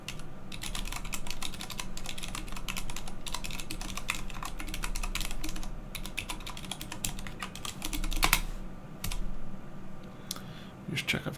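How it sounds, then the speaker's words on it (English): Rapid clattering keystrokes on a computer keyboard while entering commands, close and continuous with irregular clicks and a few louder taps, no speech over them. "Just check I've typed that correctly."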